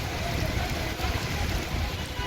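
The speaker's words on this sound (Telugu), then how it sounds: "హైదరాబాద్ లో భారీ వర్షం కురుస్తోంది" Heavy rain pours down in Hyderabad, a dense, loud, unbroken roar of drops striking surfaces throughout.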